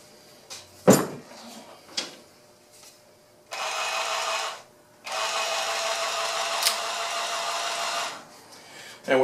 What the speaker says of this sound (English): When I hold the jigsaw up to the fence, the blade looks like it's going to cut where I want